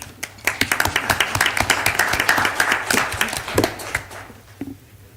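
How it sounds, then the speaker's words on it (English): A short round of applause at a board of directors meeting honoring employee service, a cluster of several people clapping briskly and unevenly, building then thinning out and fading to quiet within about five seconds. "If y'all give them a round of applause."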